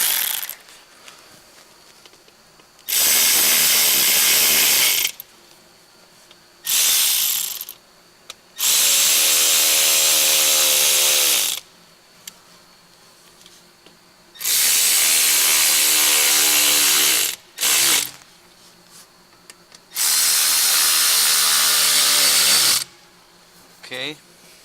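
Tool bursts work on the center exhaust pipes of a 2002 Porsche Boxster S 3.2L during an intake manifold installation, coming as several loud, sustained stretches of a few seconds each, separated by quieter pauses with faint handling noise.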